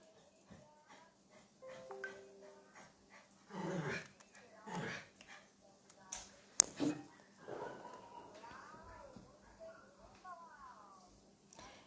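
A small female dog barks in short, scattered bursts with whimpering and growly sounds between them, fairly close, while someone talks nearby.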